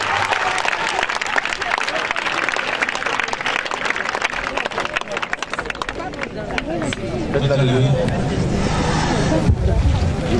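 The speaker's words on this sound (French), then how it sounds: "Acclame le Seigneur Jésus ce soir." A church congregation applauds and cheers at an evening service, with dense, sustained clapping and crowd noise mixed with voices, then a fuller, louder swell of sound toward the end.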